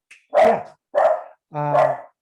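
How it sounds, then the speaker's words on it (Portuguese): A dog barks three times in close succession, loud and near, with the last bark drawn out and more tonal, in an otherwise quiet indoor room. "aqui é cachorro"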